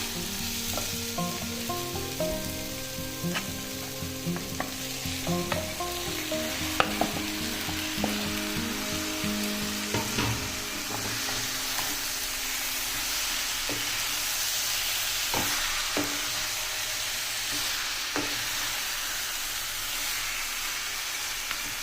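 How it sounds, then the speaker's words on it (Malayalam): Marinated chicken sizzles and fries in masala in a pan for a country-style chicken roast, a dense continuous hiss close up with scattered scrapes and knocks of stirring throughout, no talking. "ഇനി നമുക്ക് ഇതിനകത്തോട്ട് നമ്മൾ മാരിനേറ്റ് ചെയ്ത് വെച്ചേക്കുന്ന ചിക്കൻ ചേർത്ത് കൊടുക്കാം"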